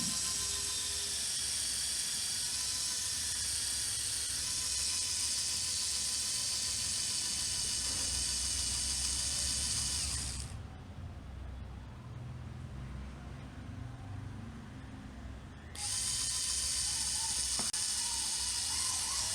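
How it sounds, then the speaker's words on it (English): An electric motor connected to the output of an overload and short circuit protection circuit runs with a steady whirring, mechanical hum, dipping quieter for several seconds midway before resuming at full strength, no talk. "You can see the motor started running."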